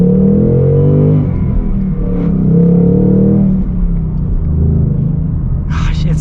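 Ford Mustang Bullitt V8 engine rumbling steadily from inside the car as it pulls through a turn in first gear, a continuous low drone that holds level with a brief rise toward the end.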